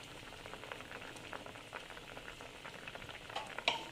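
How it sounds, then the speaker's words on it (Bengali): Fried spice paste going into raw mango chutney in a pan, a faint soft bubbling and sizzle with light stirring scrapes and a small clatter near the end. "এই ভাজা মশলাটা আমি এখন দিয়ে দিচ্ছি"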